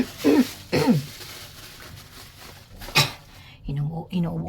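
A person coughs and clears their throat in a few sharp, close bursts while eating a meal, followed by a short stretch of speech.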